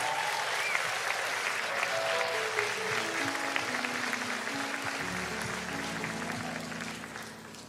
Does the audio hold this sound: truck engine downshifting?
no